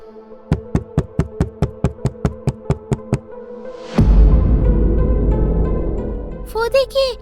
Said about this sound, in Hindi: अचानक दरवाजे पे कोई खटखटाता है।